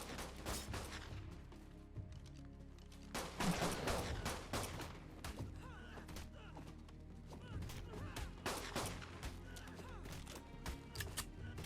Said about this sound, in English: use it to block any of the fabricated pistol bullets